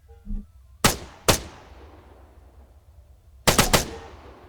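Gunfire at targets in the military shooter Arma 3, with two separate loud cracks followed by a tight cluster of three rapid shots, each ringing out with a long fading echo.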